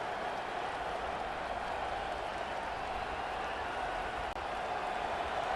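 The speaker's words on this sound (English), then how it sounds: "Decibels rising as the crowd gets behind this defense on third down" A stadium crowd roars in College Football 25 during a Northwestern Wildcats at Notre Dame Fighting Irish game, a dense sustained wash of cheering that holds steady at moderate level throughout.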